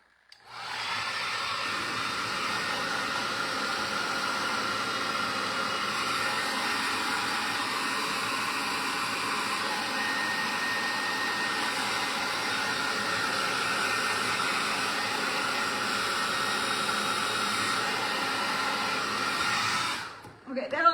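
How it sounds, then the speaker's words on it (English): Hair dryer blowing steadily on a DIY cardboard box Easter basket, a loud, continuous whooshing roar that holds nearly unchanged for about twenty seconds before cutting off abruptly at the end. "So we're going to hit it again real quick with the dryer."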